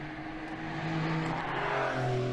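Porsche 992 Carrera S with its 3.0-liter twin-turbo flat-six, the engine's steady drone building gently in strength over a couple of seconds, close and continuous with no talk.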